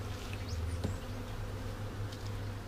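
Worker honey bees buzz at a hive during an inspection, a steady low drone of many insects close by, with a few individual bees zipping past, and no one talking.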